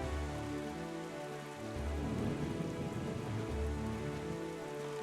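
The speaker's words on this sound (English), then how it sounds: "I hate it when it rains and thunderstorms." Rain in The Legend of Zelda: The Wind Waker, a steady soft patter of drops on a surface that continues throughout with low rumbling beneath, no voices.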